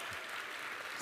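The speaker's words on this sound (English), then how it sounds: "big round of applause to Holo Connect" Short, faint burst of audience applause at a startup talk featuring the Canva co-founders, a soft wash of clapping lasting about a second.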